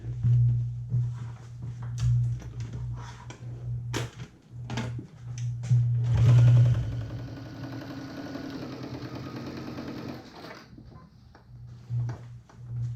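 A sewing machine stitches a quilt-block seam in a continuous mechanical run, with a low hum, ticking needle strokes and a steadier loud stretch in the middle, close and without talk.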